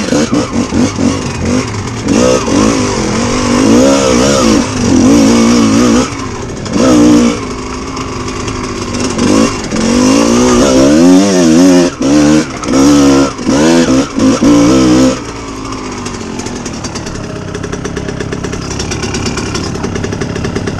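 Kawasaki KX125 two-stroke dirt bike climbing a muddy hill on a trail, engine screaming loud and close with repeated throttle bursts and cutoffs, rapid rev swings, then dropping to a lower rumble at the end.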